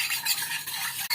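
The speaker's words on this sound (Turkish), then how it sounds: "Şimdi koyduğumuz malzemeleri şöyle bir karıştırıyoruz." Churros dough ingredients, with salt and vanilla added, being stirred in a bowl: a continuous scraping swirl of spoon against the bowl, close and steady, with no voices.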